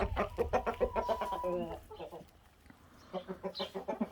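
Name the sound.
chickens and rooster clucking in a coop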